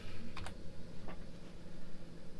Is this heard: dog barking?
no